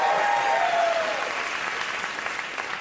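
A studio audience at a Morgan Freeman television interview breaks into steady applause, dense and fairly even, with a voice trailing off at the start before the clapping carries on alone.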